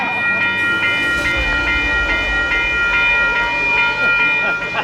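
A train rumbles loudly past a railroad crossing in Sergeant Bluff, Iowa, with a steady ringing warning bell and heavy wheel noise filling the whole stretch.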